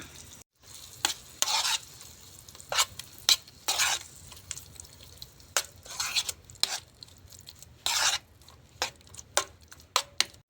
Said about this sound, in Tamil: கொஞ்சமாக உப்பு போட்டு வதக்கலாம்